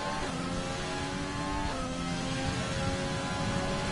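A Renault F4 race car driven at Monaco in a racing game gives a steady, loud, droning engine note with a brief pitch shift mid-way, like a gear change, and no talk.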